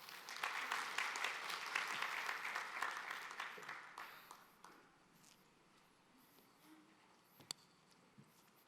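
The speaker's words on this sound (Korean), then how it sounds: "박수로 맞이해 주시면 감사드리겠습니다" A conference audience applauds to welcome a speaker, dense clapping for several seconds before thinning into scattered claps and quiet room noise.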